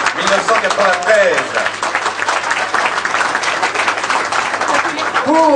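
A crowd applauds the winners of the Master de l'Aiguille du Midi race at Chamonix in 1993, producing steady, dense clapping that lasts throughout, with a voice talking over it at the start and again at the end.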